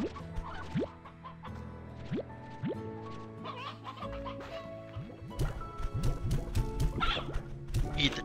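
Chickens in the video game Slime Rancher 2 cluck in short, repeated bursts over a backdrop of sustained game music, getting busier and denser toward the end.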